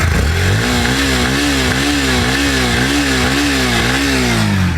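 A Bajaj Pulsar NS motorcycle engine, a 125 or 160, runs steadily and loud right after a kick start, its throbbing rhythmic idle wavering slightly in pitch throughout with no talk over it.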